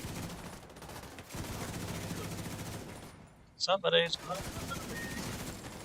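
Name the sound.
gunfire in the video game Division 2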